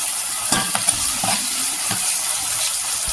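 Garlic, green chilli and ginger paste sizzles in hot oil, a steady broad hiss with a few light stirring scrapes and clicks close by, no talk.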